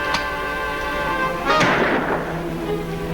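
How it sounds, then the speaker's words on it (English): Gunshots ring out in a 1950s TV western shootout, two sharp cracks with a tonal music or hum bed underneath, the second shot louder and trailing off with a short echo. "You better stop shooting, Lofty."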